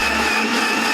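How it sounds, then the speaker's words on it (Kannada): Electric mixer grinder running at full speed while grinding masala for South Indian nati mutton sambar, a loud close whirring roar held steady for the whole moment, with a dip in the low hum partway through. "ಇವಾಗ ಮಸಾಲೆ ರುಬ್ಕೊಂಡಿದ್ದೀವಿ"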